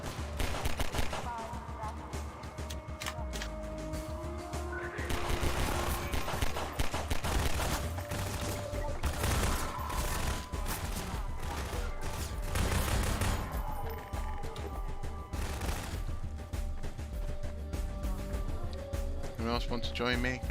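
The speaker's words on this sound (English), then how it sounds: "Thank goodness for the machine gun." Machine gun fire in Half-Life 2 rattles in rapid bursts among other gunshots, loud and continuous over a busy combat mix, while someone talks intermittently over the shooting.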